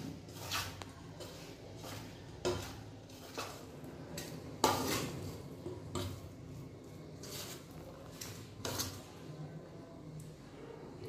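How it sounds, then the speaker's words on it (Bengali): Rice flour being mixed into potato pakora batter in a bowl, a series of soft wet squishes and scraping knocks in an irregular rhythm, close up with no talking. "আর চালের গুঁড়ো, এটাকে মিক্সড করে নেব।"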